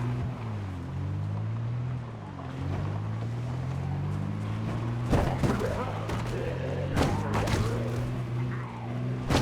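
Vehicle engine in the zombie survival game Project Zomboid, a steady low droning rumble with harmonic bands running throughout, some pitch wobble, and sharp clunks and knocks layered on top near the end.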